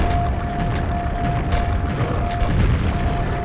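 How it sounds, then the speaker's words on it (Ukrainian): Grenade blasts in the Quake video game, heard as a dense, continuous low rumble of booming explosions with a steady high tone over it and no speech. "Ну давай туди декілька гранат визначимо, щоб його підірвати"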